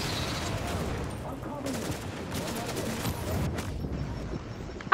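Rapid gunfire fills a firefight in The Division, sniper shots among bursts of automatic fire, steady and dense throughout with no let-up, mid-distance and fairly loud.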